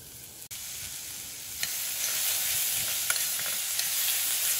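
Onions and garlic sautéing lightly in a little olive oil in a pan, a steady close hiss that swells after a sharp knock, with a few faint clicks of stirring.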